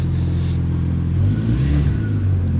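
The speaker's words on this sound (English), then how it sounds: "put it in neutral, rev it up, and then rag it into drive" A Toyota MR2 with a 1MZ-FE V6 engine revs hard and loud, its low roar surging up and dropping back over a couple of seconds.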